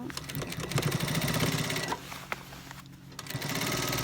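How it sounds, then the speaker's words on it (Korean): Sewing machine running a double stitch along the inner leg seam of military uniform trousers, a loud continuous rapid mechanical chatter that briefly slows and pauses before resuming. "안쪽 다리 두 줄 스티치"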